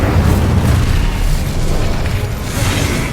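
Incendio fire spell cast in the Hogwarts Legacy video game, a loud roaring burst of flame with booming, crackling texture that swells and persists across the whole moment, without talk.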